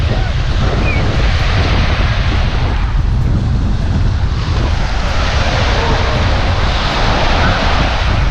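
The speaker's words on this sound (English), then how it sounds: "they have waves on this side, I guess because of the wind" Wind-driven waves wash onto a beach at Coco Cay, a dense continuous roar heavily mixed with wind blasting the microphone, loud and unbroken throughout.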